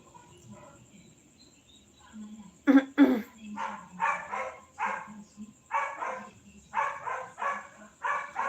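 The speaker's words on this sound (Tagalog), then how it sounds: "Ingay ng aso, ano?" Several dogs bark in repeated bursts, starting with two loud close barks and then continuing in a steady series of mid-distance barks against faint background noise.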